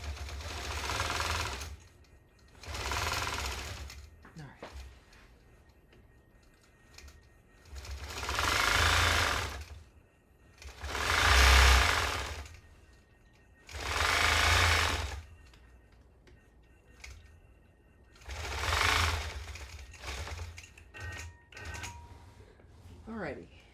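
A longarm quilting machine stitches a loop around the center of a quilt, running in six or seven separate bursts of a few seconds each with quiet pauses between, close and fairly loud.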